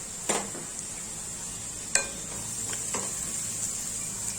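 Chopped onion for pav bhaji sizzles softly and steadily in a pan, broken by a few sharp taps of a utensil against the metal, close and with no talking.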